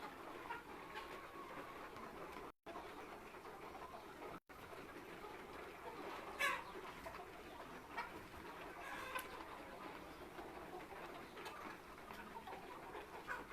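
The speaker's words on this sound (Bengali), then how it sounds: "টাইগার মুরগি" Faint clucking from a flock of tiger-breed chickens on a farm, scattered brief calls rising over a steady low background hum.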